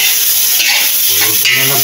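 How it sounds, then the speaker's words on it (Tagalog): Pancit noodles being stir-fried in a large pan, a loud, close, continuous sizzle with scraping stirring strokes over a short stretch. "Luto na sa pansit."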